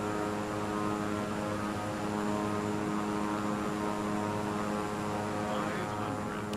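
Propeller airplane flying low on approach to a runway in the Roblox game Plane Crazy, a steady loud engine drone with a constant tonal hum held throughout, no break.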